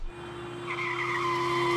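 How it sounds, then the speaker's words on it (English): A car brakes hard in a chase-scene sound effect, building into a sustained tire skid with a rising squeal. It is loud and continuous, with a steady tonal hum beneath it. "This is more of a braking sound."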